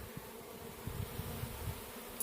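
Honey bees buzz around a hive during honey pulling, a low, steady drone nearby with faint wingbeat flutters rising through it, no voices.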